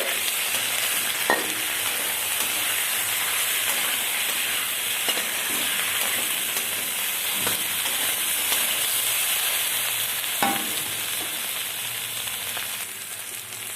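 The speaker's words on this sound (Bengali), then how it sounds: "ভালো করে মশলা দিয়ে আমি কষে নিচ্ছি" Potatoes and spices sizzle steadily in a pan for a pointed gourd curry, a loud continuous frying hiss broken by occasional clinks and scrapes of stirring.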